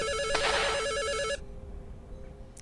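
Telephone ringing in the horror video game Misao HD Remaster: a steady, trilling electronic ring lasting about a second and a half, then cutting off into quiet room tone.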